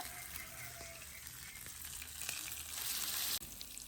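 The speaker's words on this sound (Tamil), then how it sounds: "ஒரு பக்கம் பொரிக்கட்டும்" Fish frying in hot oil gives a continuous crackling sizzle, close and steady, with a few faint clinks and a sudden drop near the end.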